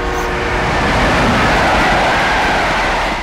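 Cartoon train passing, a loud, continuous rumble and rattle of rail cars that builds and holds close by throughout.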